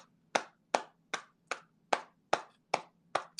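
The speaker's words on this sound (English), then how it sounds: "Golf clap." A slow, sarcastic golf clap: eight crisp, evenly spaced hand claps from a single person, close and fairly soft, with no talking over them.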